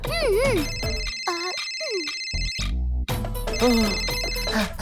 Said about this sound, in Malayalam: ഓ, ഗീത കോൾ ചെയ്യാ, എന്റെ ഫ്രണ്ടാണ്.